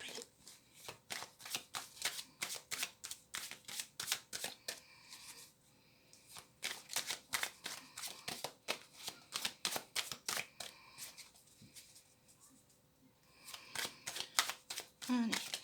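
Oracle cards riffle-shuffled in rapid bursts of crisp snapping clicks, close up, with brief pauses between rounds and a soft voice talking over part of it.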